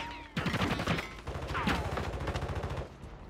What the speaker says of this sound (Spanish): Escuché balazos aquí.